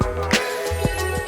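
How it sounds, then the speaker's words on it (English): Glittering chime tones ring through a self-produced song, high sparkling bell notes layered over sustained harmonic pads with a deep thumping kick and snare hits in a steady beat. "You see, you can hear all of these chime sounds"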